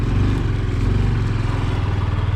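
A Honda Super Cub motorcycle engine putters steadily at low revs while riding, a continuous rough drone with rhythmic pulsing and no talk.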